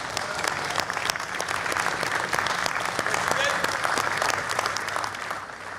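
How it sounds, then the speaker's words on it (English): An audience at a large outdoor cultural festival claps steadily in a dense, continuous wash of applause, with no let-up across the whole stretch. "Let's give him another round of applause."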